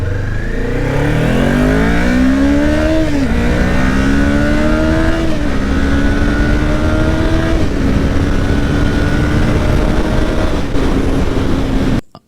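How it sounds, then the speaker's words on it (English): A motorcycle with a stock muffler revs loudly and close up, its intake note audible, climbing in pitch through a couple of throttle blips and then holding a steady high drone. "You can really hear the intake note on the bike instead of just the exhaust note."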